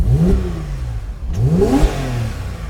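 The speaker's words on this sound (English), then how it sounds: "You'll notice down here we've got sports exhaust" Car with a sports exhaust revved twice in quick succession, each blip rising sharply then falling back to idle, loud and close with a raspy tone.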